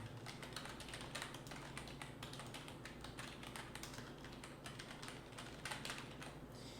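Quick, irregular clicks of a computer keyboard as a search query is typed in English, soft and close, with short bursts and brief pauses and no talking.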